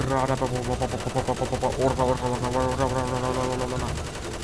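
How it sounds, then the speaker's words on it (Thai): Rapid bursts of gunfire in GTA V, a fast rattling automatic stream with brief pauses, fairly loud and dense. "กูยิงปืนนะเนี่ย ไม่ได้ยิงปืนฉีดน้ำนะเนี่ย"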